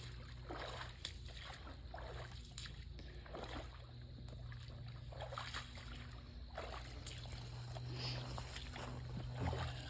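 Hunters wade across a creek on Ohio public land, with faint, steady sloshing and splashing of water around their legs heard at a distance over quiet outdoor ambience.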